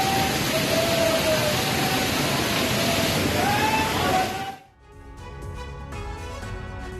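A monsoon-swollen waterfall rushes as a dense, loud, steady roar of falling water with a voice faintly over it, then drops off abruptly to quieter background noise.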